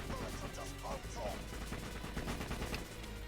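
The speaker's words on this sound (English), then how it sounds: "This feels like a really big mag kind of fun gun." Rapid bursts of gunfire from a large-magazine gun in the video game Azurelands 2, sharp repeated shots in quick clusters, quiet overall, with faint voice-like sounds mixed in.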